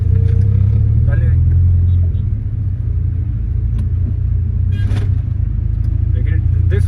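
A car fitted with a 5-puck clutch idles and lurches in stop-and-go traffic, a low steady engine rumble with brief surges, while someone talks over it.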